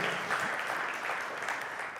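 Lively applause from a church congregation praising God during a sermon, a thick continuous patter of many hands at an even level throughout, with no voice rising above it.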